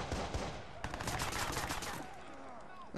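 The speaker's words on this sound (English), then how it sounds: "then we start getting into a gun battle" Rapid automatic gunfire rattles through a gun battle in the video game Watch Dogs, dense bursts of shots that fade toward the end.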